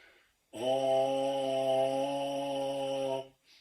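A single low, steady buzz on a baritone horn mouthpiece, held for about three seconds with a clear pitch, close and fairly quiet.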